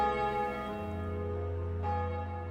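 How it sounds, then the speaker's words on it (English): Church bells ringing out over a capital city, a loud, sustained peal of overlapping, resonant tones that swell and shift pitch partway through, with no voices over them. "the ringing of the church bells becomes deafening"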